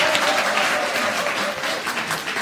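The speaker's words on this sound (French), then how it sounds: "On applaudit, ça s'applaudit." Applause from a church congregation at a prophetic testimony service, a dense, even burst of many hands clapping that stays fairly loud throughout, with faint voices underneath.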